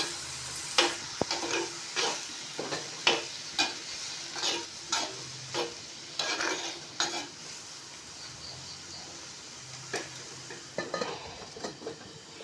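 Mushroom thoran sizzling in a pan as a spoon stirs and scrapes it, with repeated clinks of the utensil against the pan over a steady frying hiss.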